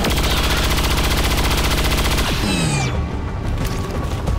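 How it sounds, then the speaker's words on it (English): A grenadier's standard shot in XCOM 2 fires as a loud burst of rapid automatic gunfire lasting about two seconds, followed by a sharp crash and trailing debris and mechanical clatter. "We'll just take the standard shot and see what we get."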